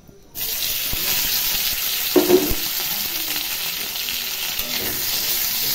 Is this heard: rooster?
no